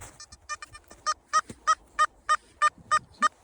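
A Simplex Lite metal detector gives a series of short, evenly spaced electronic beeps over a shallow denarius coin, growing stronger and then holding a steady rhythm.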